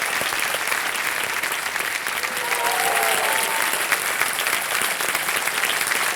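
Sustained studio audience applause on a Kaun Banega Crorepati game show set, dense steady clapping throughout at an even loudness, with no talk over it.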